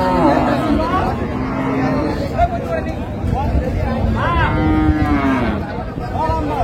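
Cattle at a rural livestock market in Raniganj, Dinajpur, where dairy cows and calves are traded, moo loudly and repeatedly over a steady background of crowd chatter and voices.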